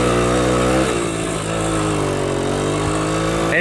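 A 1970 Kawasaki Bushmaster 90cc two-stroke motorcycle runs close and loud, its steady idle dipping around the one-second mark and then settling back into an even, buzzy drone.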